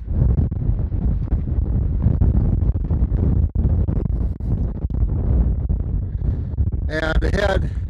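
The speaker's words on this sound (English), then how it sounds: "It's gonna get a bit windy." Strong wind on a mountain ridgeline in Nevada's Rainbow Mountain Wilderness buffets the microphone in a steady low roar with gusty drops, and a voice briefly speaks near the end.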